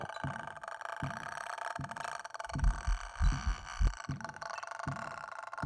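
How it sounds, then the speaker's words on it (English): A ghost-hunting video game's heartbeat effect thumps in low, muffled beats whose pace shifts from sparse to quick, bunched pulses and back, with a faint hum underneath and no voices. "the line of sight heartbeat, and then it's just getting faster again"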